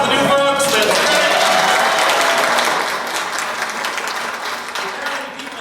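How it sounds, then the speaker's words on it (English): A theatre audience claps warmly for first-time attendees at a civic theatre staged reading, with dense, loud applause and light cheering that gradually thins toward the end, and a voice talking over it. "Clap for the new folks"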